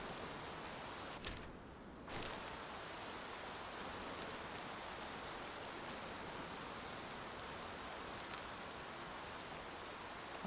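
Steady rain pours down without a break in the hunting game Way of the Hunter, a dense, even hiss that carries on alone for the whole stretch apart from a short dip partway through.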